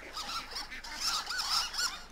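Ducks in Firewatch quack and honk loudly in a rapid, overlapping series of nasal calls, close and unaccompanied by speech.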